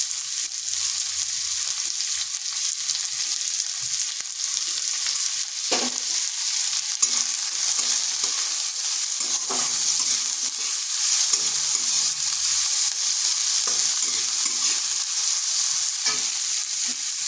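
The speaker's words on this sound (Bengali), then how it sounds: "পেঁয়াজটাকে হালকা ভেজে নিচ্ছি।" Thinly sliced onion and whole cumin fry in a little oil in a pan, a steady bright sizzle running throughout, with occasional scrapes and knocks of stirring; no voices.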